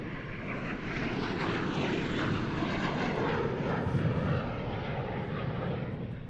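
A de Havilland Sea Vixen jet flies over an air show, its engine roar a steady broadband rumble that holds loud and close for several seconds, with some wind buffeting on the microphone.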